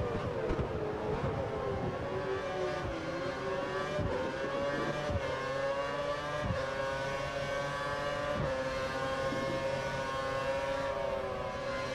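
Formula One race car engine held at full revs in F1 2013, racing at the Malaysian Grand Prix with light rain starting; a loud, steady high-pitched engine whine with layered harmonics runs continuously alongside other cars.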